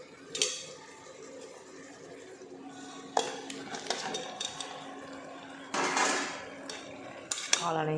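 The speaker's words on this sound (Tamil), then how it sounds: "காளானையும் சேர்த்து நல்லா வதக்கிக்கலாம்." Mushrooms being sautéed in a pan with yogurt for Chettinad-style mushroom biryani bring repeated clinks and scrapes of a metal spoon against the pan over a low sizzle, with several louder stirring bursts close by.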